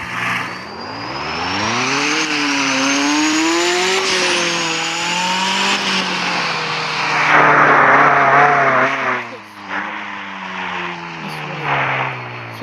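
Car driving in the Roblox game Driving Empire, a steady synthetic engine tone rising and falling in pitch with acceleration, continuous and loud throughout with a brief skid-like hiss midway.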